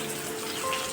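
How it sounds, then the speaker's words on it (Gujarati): Rain falls steadily outdoors, a continuous close hiss of drops on surfaces with a faint steady hum beneath and no voices. "બહાર આવ્યો તો વરસાદ આવી ગયો"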